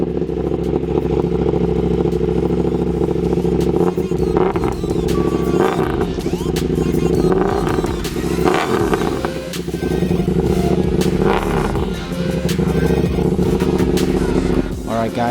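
A KTM Duke 790 with an Arrow dual exhaust and the dB killers removed idles with a loud, rough, throbbing burble close by, the engine blipped and revved repeatedly throughout.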